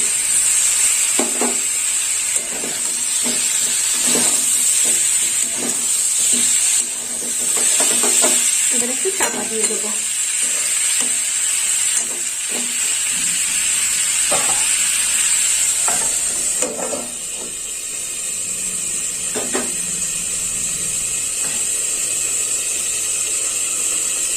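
Chopped tomatoes land in a pan of frying potato and eggplant curry, with a steady close sizzle and repeated stirring scrapes throughout, the hiss easing slightly toward the end.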